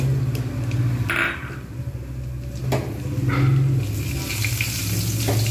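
Nigella seeds drop into hot oil for a vegetarian taro-stem dish and give a steady, moderate sizzle up close, with a few clinks and knocks from the pan.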